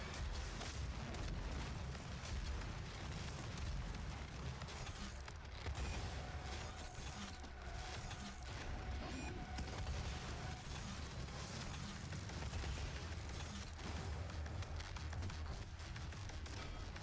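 Dense, continuous game combat in Doom 2016: repeated rocket launches and booming explosions layered over heavy mechanical rumble, loud and sustained with overlapping blasts, no voices heard.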